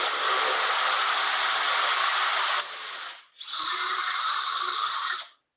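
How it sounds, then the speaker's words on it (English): A power drill bores into wood close by in two continuous loud, high whirring runs separated by a brief pause, the first with a shift in pitch partway through. "and I can use my drill directly to the wood."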